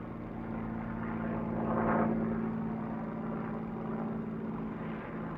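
A Supermarine Spitfire fighter plane in flight gives a steady, droning propeller-engine hum that swells briefly as it passes near, then settles back to a constant tone, with no other sound over it.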